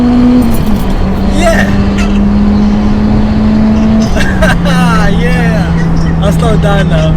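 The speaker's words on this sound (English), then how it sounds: "this Civic, the torque is immense in this car" A 200 bhp Honda Civic Type R pulls hard toward the motorway, its engine a loud, steady close-up drone that dips briefly mid-pull before carrying on, with an excited shout and talk over it.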